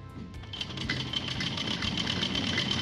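A sewing machine runs steadily, its rapid rhythmic clatter stitching salwar fabric at close range with no talking.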